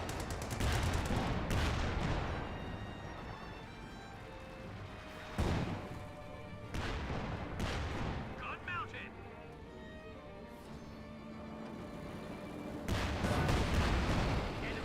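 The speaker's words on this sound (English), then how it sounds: "Detonates the landmine there, very nice." A landmine detonates amid an ongoing Company of Heroes 2 battle, one of several sharp booming blasts cutting through steady gunfire and rumbling combat noise while a commentator talks over it.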